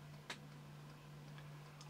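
A small mechanical clock, started with a kickstart lever, ticks faintly and sparsely over a steady electrical hum, with a sharper click near the start.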